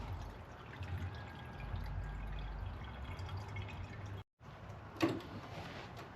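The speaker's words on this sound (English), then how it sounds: "we're going to fill this through the upper radiator hose because we want to fill the block up." Blue coolant trickles and drips as it is poured through the upper radiator hose of a 2010 Subaru Forester with a broken timing belt. The quiet liquid sounds stop briefly, then a single sharper drip or clink follows.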